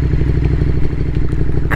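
A motorcycle engine heard while riding in the rain in Dubai, loud and close with a steady rapid low throb, buffeted by wind and road noise.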